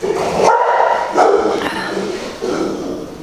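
Dogs bark in a few sharp, loud yaps spaced across a few seconds, close by, in a space where a Honda B18 engine is being taken apart.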